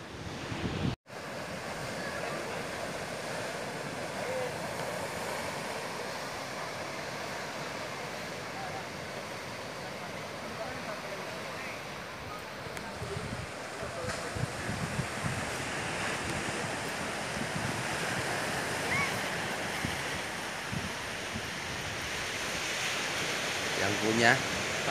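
Waves break on Pantai Ngitun, a natural, undeveloped beach: a continuous roar of surf that slowly swells louder, mixed with wind buffeting the microphone and a sharp knock near the start.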